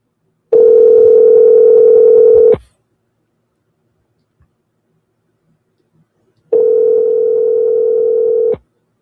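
Two long telephone ringback tones sound while a call is being placed, each a steady, loud buzz of about two seconds, separated by roughly four seconds of silence.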